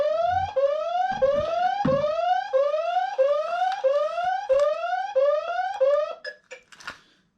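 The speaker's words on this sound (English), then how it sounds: "is sound the alarm, and it will also reverse or go forward depending on which direction they're trying to push it" A Super Soco TC electric motorbike's anti-theft alarm blares alone in a loud, repeating pattern of rising electronic sweeps, about two per second for six seconds, then stutters into a few short beeps before stopping.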